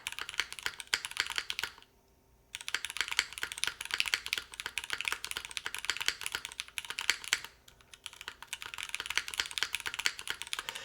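Rapid clacky typing on a custom-built mechanical computer keyboard with a slightly aluminum-sounding case, dense continuous keystrokes close up, broken by two short pauses, with no talk.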